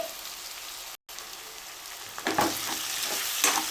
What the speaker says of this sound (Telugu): కొంచెం సాల్ట్ వేయండి త్వరగా ఫ్రై అవుతాయి